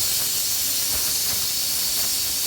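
Steady, loud steam hiss from a pressure cooker of chicken curry venting its whistle, continuous and close for the whole short stretch with no voices.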